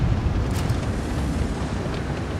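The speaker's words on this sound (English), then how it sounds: "I just decided to shoot HE there" An HE shell fired from a Grille tank destroyer in a tank combat game, a heavy boom that rolls into a long dense rumble filling the whole clip, loud and close with no talk.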